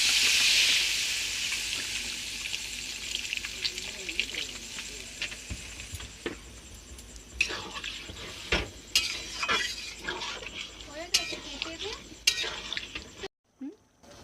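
Water goes into a pan of chicken ghugni with potatoes, peas and spices, bringing a soft sizzle and splash followed by scattered stirring clinks and scrapes against the pot.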